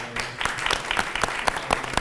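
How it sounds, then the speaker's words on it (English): Scattered, sparse clapping from a small gathering in a room during a community panel event, a handful of distinct claps in an uneven rhythm at moderate distance rather than a full ovation. "Round of applause for her."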